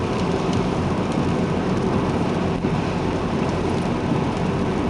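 Heavy rain drums loudly and steadily on a car while it is being driven, a dense continuous roar of drops on the roof and glass with a low rumble underneath and no voices.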